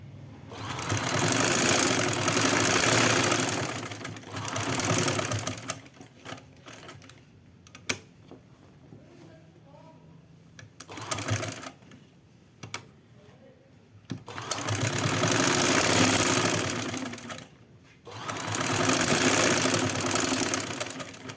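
An electric sewing machine stitches contrast lace onto a printed suit neckline in three long, loud whirring runs, separated by quieter pauses with light handling clicks.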